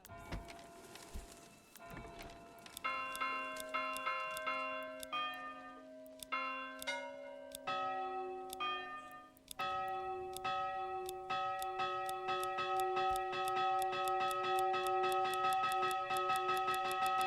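Church bell ringing in the medieval village-building video game Manor Lords: sustained, overlapping ringing tones that change pitch in steps and grow into a dense, steady peal, loud throughout with no speech.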